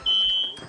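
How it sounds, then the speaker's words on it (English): A smoke detector sounds one sustained, piercing high electronic tone for most of the moment before cutting off, close and loud. "My fire alarm was going off."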